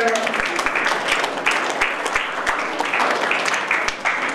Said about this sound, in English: a big round of applause for all the teachers who guided him